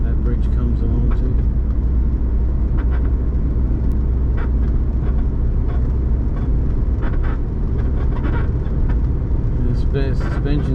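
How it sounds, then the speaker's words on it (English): Inside a moving car with noisy suspension, a heavy steady road rumble fills the cabin, broken by intermittent knocks and rattles as the car drives along, loud and close. "The suspension's a bit noisy in this car."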